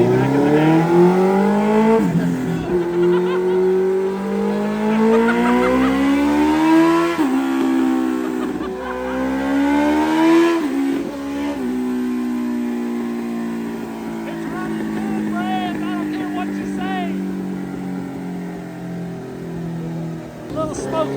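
A car engine revs up and down repeatedly in long, loud rising and falling sweeps during a horsepower run. People talk at times over the close, steady engine drone.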